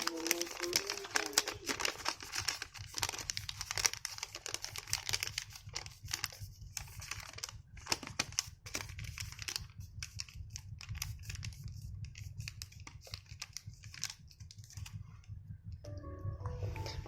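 Paper for an origami dinosaur is folded and creased in quick crinkly rustles and snaps, close but quiet, repeating irregularly with short pauses.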